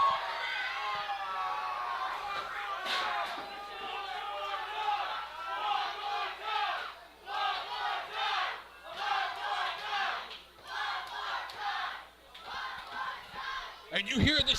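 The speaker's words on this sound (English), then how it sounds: "you hear this sadistic factory crowd asking for one more time" A wrestling crowd at an indie show chants and shouts rhythmically for one more time, a loud, dense roar of voices rising and falling in waves, with a sharp bang at the end.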